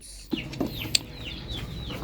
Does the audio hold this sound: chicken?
yes